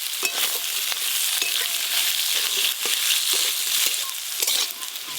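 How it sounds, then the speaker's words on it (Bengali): Potato pieces fry in hot oil, producing a dense, continuous crackling sizzle with bright spattering pops and occasional stirring scrapes, close-up and steady, with no one speaking. "আলুগুলো ভাজা হয়ে গেল, নামিয়ে নেব।"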